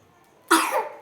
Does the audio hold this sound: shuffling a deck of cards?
no